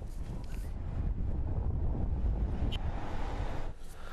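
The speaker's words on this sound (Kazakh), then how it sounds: "Мұнда жел сағатына 85 шақырым жылдамдықпен соғып тұр." Strong storm wind gusting at about 85 km/h in New York State roars as steady, loud outdoor buffeting for several seconds, easing slightly near the end, with no speech.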